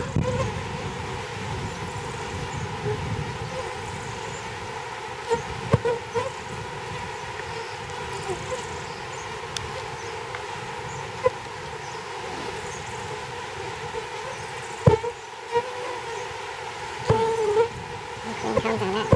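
Honey bees around a hive after one colony swarmed, a steady dense buzzing drone throughout with occasional faint clicks and bumps nearby.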